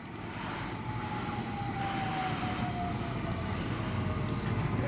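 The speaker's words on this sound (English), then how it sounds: "We have a Millennium Train arriving on platform number 3" A Sydney Millennium Train arrives at Toongabbie station platform 3, its broad, steady rumble and wheel noise filling the whole stretch, with a faint high squeal drifting across and no talk.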